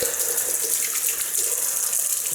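Tap water runs to rinse a Gillette Slim Twist safety razor during a wet shave. The close, loud and steady faucet stream splashes into a sink, with no speech.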